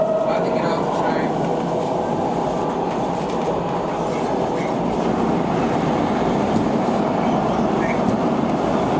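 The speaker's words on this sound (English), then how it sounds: "About to get off the train." Steady rumble and rattle of a moving train from inside a car, with continuous wheel noise and faint voices in the background.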